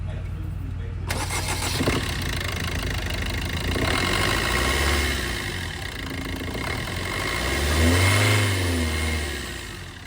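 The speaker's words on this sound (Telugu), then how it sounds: "ఒకసారి ఇంజిన్ స్టార్ట్ చేసుకోవడం మనం చెక్ చేద్దామండి." A used Maruti Brezza car's engine cranks and starts, then settles to idle with rising revs swelling twice near the end, close by.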